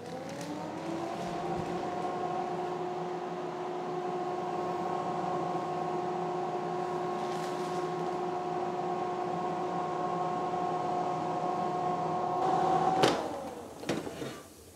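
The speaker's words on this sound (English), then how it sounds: "then I just turn the air fryer on" A Tefal Easy Fry air fryer runs steadily at close range with a constant fan whir and a strong motor hum. Toward the end there is a short burst of clicks and handling knocks.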